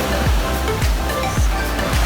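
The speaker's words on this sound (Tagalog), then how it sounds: "Wow, ang ganda man yung alon-alon." Sea waves at Baluarte in Luna, La Union: a constant loud wash of surf with rhythmic swells breaking about every half second, close by and without speech.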